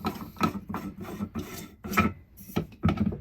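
A table post in a 2022 Thor Four Winds 30D RV is unscrewed, giving a series of close, short scraping and rasping turns with brief pauses between twists.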